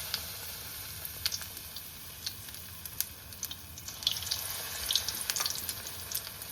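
Snacks frying until golden in hot oil, a steady close sizzle with scattered pops and crackles running throughout, no voices.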